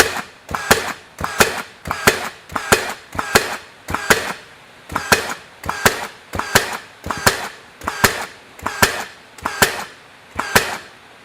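Rapid sharp shots from a RIDGID 18V 16-gauge cordless straight finish nailer bump firing 2-inch nails into mock trim, about fourteen evenly spaced cracks each followed by a short mechanical whir, close and loud with no voices.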